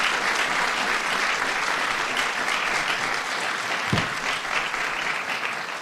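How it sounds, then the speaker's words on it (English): An audience at a New Jersey bill signing gives a steady, dense round of applause for several seconds, many people clapping together at even strength without pause. "Let's have a round of applause for my friend Joe."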